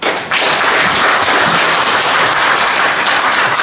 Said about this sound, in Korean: 여러분을 다 위해서 박수로 우리 자신을 위해서 박수 감사합니다.